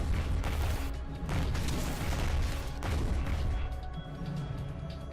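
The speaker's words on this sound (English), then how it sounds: "That nuclear silo is just lobbing missiles in here." Missiles from a nuclear silo in the tower defense game Riftwalker TD pound the battlefield as a dense, continuous barrage of booming, crashing impacts, several heavier thuds standing out over a constant low rumble.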